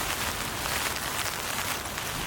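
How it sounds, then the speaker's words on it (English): Rain drums steadily on a Hilleberg Allak 2 tent during a severe cyclonic storm, a dense, even hiss of drops pattering on the fabric close overhead, with no voices. "And it keeps raining in here."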